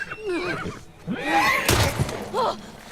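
A horse in the video game The Last of Us Part 2 whinnies in a few loud, shrill, wavering bursts with thuds around them, close and clear.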